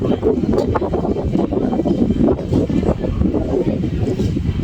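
Wind buffets a microphone outdoors, a low rumbling roar with uneven gusts that swells and fades continuously over a few seconds.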